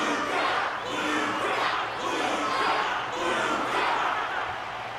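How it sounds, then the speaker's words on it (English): An arena crowd at a martial arts ceremony event in the video game Honkai Star Rail roars and applauds in a dense, continuous wash of noise that swells and dips slightly. "The audience's passion stays strong. Their constant applause is a salute to this resilient Belabogian fighter."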